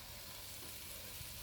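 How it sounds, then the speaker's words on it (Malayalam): Biriyani masala being stirred and mixed in a home kitchen pan, a steady broadband sizzle with soft scraping throughout, close and continuous, no talking. "നല്ല രീതിക്ക് അതൊന്ന് മിക്സ് ചെയ്യുന്നുണ്ട്"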